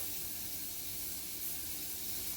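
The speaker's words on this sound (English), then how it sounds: "I'm going to spray my 9 by 13 pan with some cooking spray" A steady, even hiss of cooking spray onto a 9 by 13 baking pan runs continuously for a couple of seconds at close range, with no talking.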